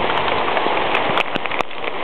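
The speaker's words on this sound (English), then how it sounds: "But anyways, it's hailing big time." Hail pelting down hard during a mountain storm, a dense continuous hiss of impacts on surfaces with occasional sharper ticks, loud and close with no voices.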